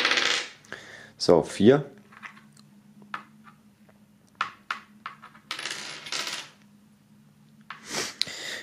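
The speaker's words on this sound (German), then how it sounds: "Man würfelt einfach." Dice clatter and roll across a board in a tabletop game, with sharp clicks in several separate bursts and a voice speaking briefly between them.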